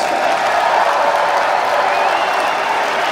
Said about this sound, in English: give a big round of applause for my other finalist, Levi Rigters